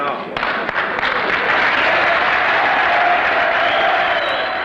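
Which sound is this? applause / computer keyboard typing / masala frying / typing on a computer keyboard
applause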